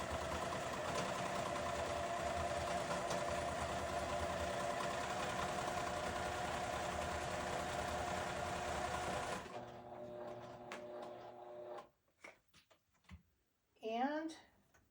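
A sewing machine stitching out embroidered letters in a steady, fast mechanical whir for about nine seconds, then it stops and a voice speaks briefly.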